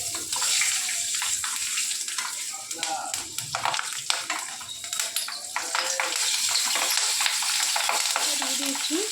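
Mustard seeds, poppy seeds and nigella seeds crackle and hiss in hot oil as they are stirred in a pan for a mustard poppy seed curry with parshe fish. Close, steady sizzling is broken by scraping and clinking.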